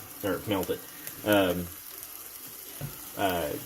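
Pepperoni pizza heating in a waffle maker gives off a steady, soft sizzle that runs throughout beneath bursts of a nearby voice talking.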